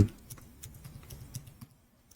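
Quick light keystrokes on a computer keyboard, a faint irregular patter of clicks over about two seconds, fairly close and with no talking.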